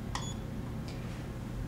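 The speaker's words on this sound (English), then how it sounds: "you will hear a beep that" A door opener control module gives a short electronic beep as an RF code is saved to its EPROM, one bright tone near the start and a fainter second blip shortly after, over a steady low hum.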